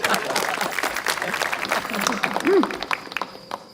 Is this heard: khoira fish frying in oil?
no